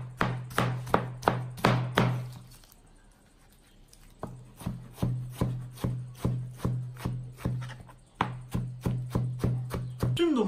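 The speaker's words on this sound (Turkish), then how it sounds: "Tüm domatesleri ince ince doğradım." A knife chops tomatoes rapidly on a cutting board, sharp rhythmic taps in quick bursts with a short pause between runs, close and clear.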